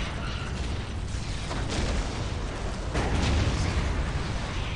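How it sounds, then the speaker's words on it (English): Basilisk artillery pieces of the Imperial Guard fire shells in the strategy game Dawn of War Soulstorm, with heavy booms and bursts landing over a rumbling, mechanical battlefield din, two stronger blasts standing out partway through. "we're just going to start plonking artillery shells"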